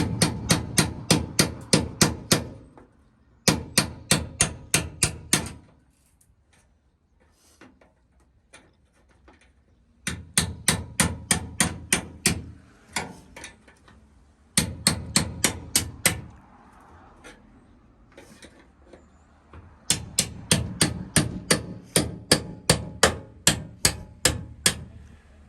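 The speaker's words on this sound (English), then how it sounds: "Chisel it a little bit." A chisel is hammered through the chassis of a Honda Civic race car, loud rapid metallic strikes coming in bursts of about ten blows separated by short quiet pauses.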